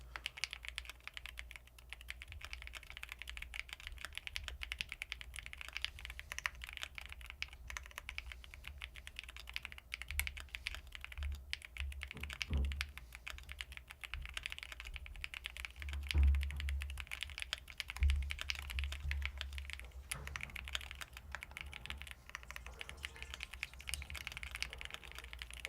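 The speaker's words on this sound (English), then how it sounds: "I'm going to type for real" Rapid typing on a computer keyboard during a typing test, a steady dense clatter of keystrokes lasting the whole stretch, close and even, with a few heavier thumps and no speech.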